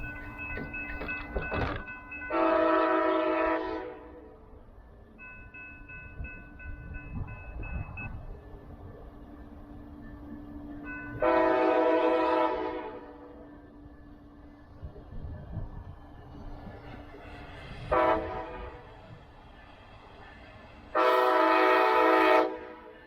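A Brightline test train passes a Gus Hipp Boulevard crossing, its horn sounding in several loud, long blasts with pauses between, over a continuous rumble, along with a steady crossing bell tone.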